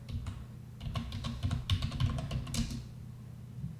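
Close, rapid typing on a computer keyboard, a quick run of clicking keystrokes that stops near the end, with no talk.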